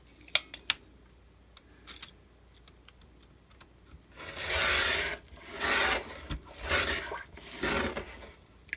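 Painted packing paper sliced on a paper trimmer, a few faint clicks as the sheet is lined up, then four rasping cutting strokes in steady rhythm, close and moderately loud, no voices.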